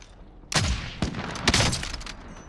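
Gunfire in the video game Warzone: a burst of loud shots erupts after a quiet start, with several heavy cracks and rattling reports overlapping in a dense volley.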